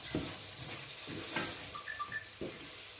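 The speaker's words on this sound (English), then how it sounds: "I'll let my brinjal fry for 5 minutes" Brinjal fries in a pan for a curry, giving a soft, steady sizzle with a few stirring scrapes and small clinks at a moderate distance.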